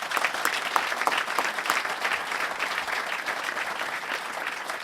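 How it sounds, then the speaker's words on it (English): A large audience at the 2013 IIHF Hockey Hall of Fame induction ceremony applauds the induction class, sustained dense clapping at an even level throughout, with no speech over it. "Could we have one final round of applause for our 2013 induction class"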